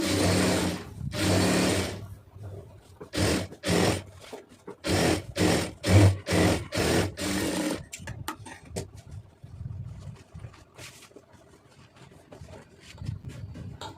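A sewing machine stitches blouse lining in a series of short, loud bursts separated by brief pauses, then gives way to softer handling and rustling sounds.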